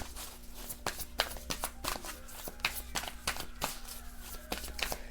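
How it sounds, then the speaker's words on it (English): Soft, repeated riffling and tapping of tarot cards being shuffled, a steady series of light papery flicks at close range with a faint background hum. "Let me shuffle and see what's going on."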